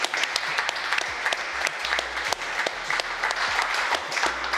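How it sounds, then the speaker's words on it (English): An event audience at a digital marketing agency awards gives a round of applause, steady crowded clapping with sharp individual claps standing out, moderately loud and continuous throughout. "Let's give them a round of applause."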